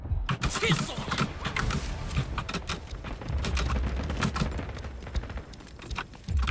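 Rapid gunfire bursts in the video game Delta Force, dense crackling shots and clatter filling the span, with a player talking over them.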